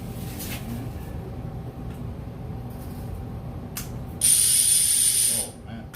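Fishing reel clicker ratcheting on a spool that is being checked for faults, a fast run of close, loud clicks bursting in near the end over a low background hum.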